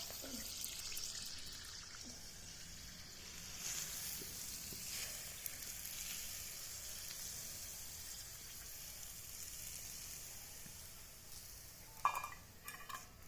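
Mustard seed tempering for khaman dhokla, a faint steady sizzle and light crackle with soft trickling sounds and a brief clatter toward the end.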